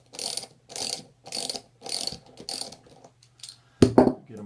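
A wrench ratchets loose the nylock nuts on a Pearson pump during seal replacement, giving bursts of crisp, close clicking in a steady rhythm, then a louder metallic clatter near the end; no one speaks.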